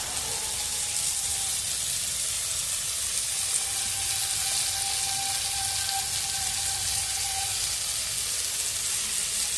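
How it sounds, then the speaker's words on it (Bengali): Poppy seed and green chili paste fries in a pan for a plantain curry, making a steady, even sizzle that holds at a constant level throughout with no talking. "এবার পোস্ত আর কাঁচা লঙ্কা বাটাটা দিয়ে দিচ্ছি একসঙ্গে।"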